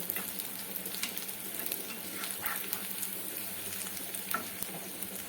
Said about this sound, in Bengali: এগুলোকে গোল্ডেন করে আমি ভেজে নেব যতক্ষণ না গোল্ডেন হচ্ছে